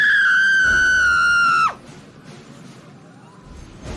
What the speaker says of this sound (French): C'est un homme qui crie comme cela.